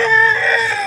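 Chickens near a newly hatched chick let out a short, loud, close tonal call lasting under a second.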